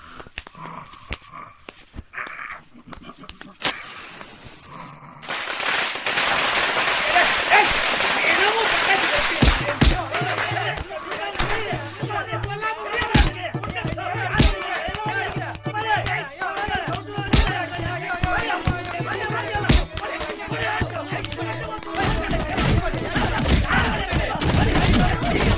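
Firecrackers bursting in a village street for a politician's arrival, a dense, loud crackle of rapid pops running on and on, with a crowd shouting and people talking over it.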